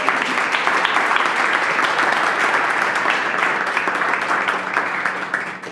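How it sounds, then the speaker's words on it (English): A crowd at a brewing company gathering gives a loud, dense round of applause, many hands clapping steadily for several seconds before fading at the end. "So give yourselves a big round of applause as well."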